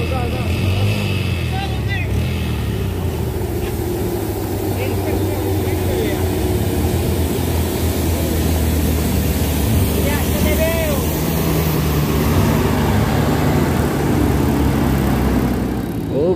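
A car engine strains as it climbs a steep, rocky incline, a steady, loud droning growl held close for the whole stretch, with voices talking over it.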